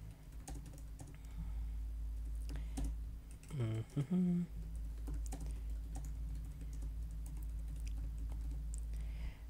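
Someone types on a computer keyboard and the keys patter softly and steadily over a low hum, with a brief voiced murmur partway through.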